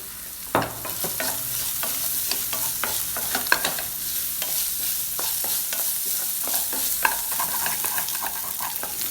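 A large finely chopped onion sautés in hot oil for potato bonda, giving a steady sizzle broken by frequent sharp spatula taps and scrapes against the pan, close and fairly loud.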